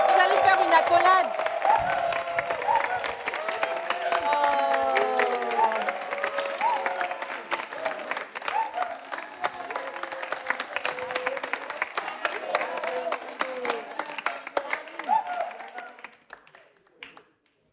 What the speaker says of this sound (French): vous allez l'applaudir pour l'encourager